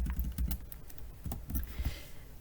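Keys tapped on a computer keyboard while entering a number, a quick cluster of close, crisp clicks followed by a few more spaced taps, fairly quiet with no voices.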